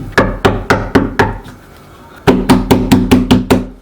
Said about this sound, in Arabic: انا بكره حد يخبط على الباب بصوت عالي